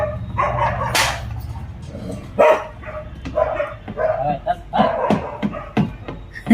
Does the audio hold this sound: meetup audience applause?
no